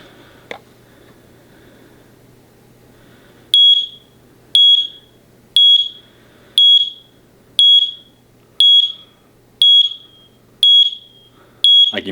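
An interconnected wireless smoke and carbon monoxide combo detector sounds its alarm in a house, giving a loud, sharp, high-pitched beep that repeats about once a second after a short quiet stretch at the start.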